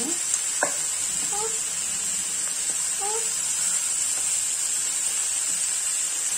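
Vegetarian stuffed potimarron filling cooks in a pan, giving a steady, even sizzle that holds at moderate level throughout, with a few faint brief voice-like sounds in the background.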